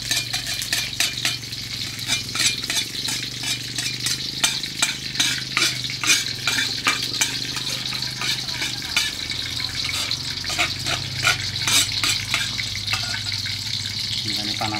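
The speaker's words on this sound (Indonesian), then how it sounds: "Langsung digongso terus." Spice paste for an octopus dish being stir-fried in hot oil, a continuous crackling sizzle with rapid rhythmic scraping of a utensil against the pan throughout, close and loud, with faint talk in the background.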